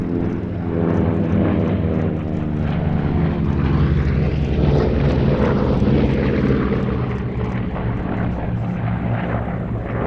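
A Vought F4U Corsair piston-engined fighter passes at an airshow, its loud propeller drone steady and continuous for about ten seconds with no voices.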